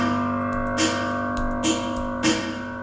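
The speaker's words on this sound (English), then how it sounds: "Like that percussion sound you hear is not melodic." Short non-melodic percussive hits from the video game Godkiller land roughly every second over sustained musical tones, crisp bursts that sit on top of a steady synthesized backdrop.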